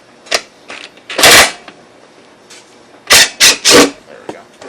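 A 3/8 socket ratchet on an extension loosens a bolt at the back of the gas tank of a Briggs & Stratton engine, making loud, close bursts of clicking, one single snap and then three quick runs after a pause.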